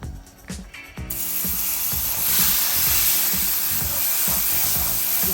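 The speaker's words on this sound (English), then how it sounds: "We're going to go ahead and add the water." Water poured into a pot of hot roux for smothered chicken gravy, a sudden loud hiss that swells and holds steady, with rhythmic clicking of stirring underneath.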